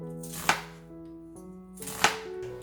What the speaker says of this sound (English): With one of the halves, cut it into 4 sections.